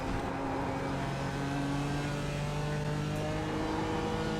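In the iRacing video game, a BMW M4 race car drifts with its engine droning loud and steady, holding a sustained high-revving tone with slight pitch shifts and no speech.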